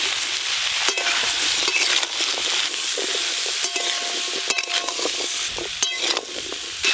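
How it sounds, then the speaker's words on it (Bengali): Pumpkin, potato and Malabar spinach stalks frying together in a pan with salt and turmeric: a steady, close sizzle runs throughout, broken by repeated scraping and clinking strokes of stirring. "কুমড়ো, আলু আর পুঁই শাকের ডাঁটা একসঙ্গে ভেজে নেব।"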